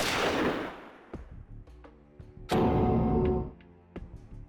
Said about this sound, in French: C'était quoi le coup de feu à l'instant?